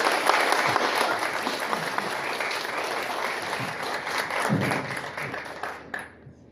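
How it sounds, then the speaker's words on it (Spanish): A conference audience applauds steadily for about six seconds to welcome an architect to the stage, a dense wash of many clapping hands that fades out at the end. "Recibámoslo con un caluroso aplauso."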